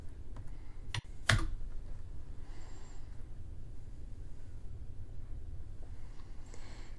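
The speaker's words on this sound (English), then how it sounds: "key in CloudFront and hit Enter in the search bar" Quiet keystrokes on a computer keyboard come in a brief burst, followed by one sharp, louder key press like hitting Enter, then near silence with faint background hiss and a few soft clicks.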